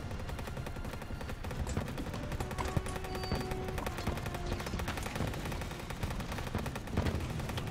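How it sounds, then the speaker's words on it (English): Rapid, constant gunfire and artillery barrages rattle through a tank battle in the video game Total Tank Simulator, dense overlapping shots with heavier booms mixed in, steady and fairly loud with no talking. "Artillery's getting in the action now."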